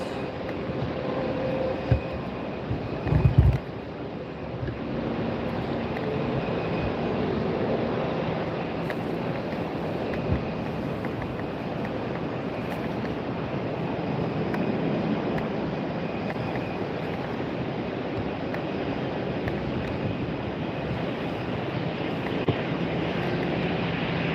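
United airliner taxiing out at Tampa airport on a very windy day, a steady low jet-engine rumble and whine running throughout with a brief thump early on, moderately distant.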